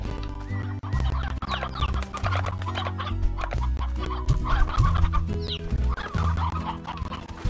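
Chickens cluck repeatedly in the video game Slime Rancher, loud and close over a looping low game melody, with a brief higher squawk partway through.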